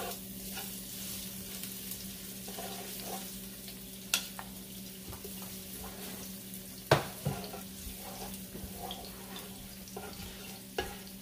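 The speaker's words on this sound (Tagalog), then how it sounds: "Maggigisa tayo ng bawang" Garlic and onion sauté in a pan with a quiet, steady sizzle. Occasional sharp clinks and scrapes from stirring cut through, and there is no talk.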